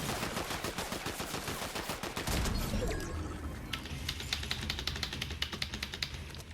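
Rapid video game gunfire, heard as a dense, loud burst of automatic shots followed by quieter scattered volleys and repeated cracks continuing to the end.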